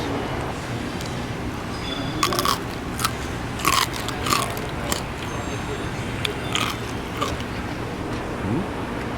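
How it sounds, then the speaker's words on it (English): Several crisp crunches ring out as someone bites into crispy skin of Singapore chicken rice, followed by steady chewing with a low background hum. "So let's do a crunch test."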